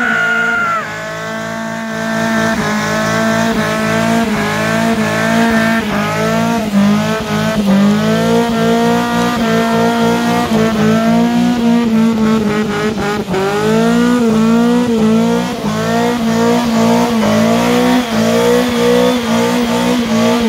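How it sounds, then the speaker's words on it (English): A car does burnouts at a drift park, its engine revving hard in repeated rising and falling surges under continuous tire squeal, loud and close for a long stretch. "Burnouts are definitely how you end the night."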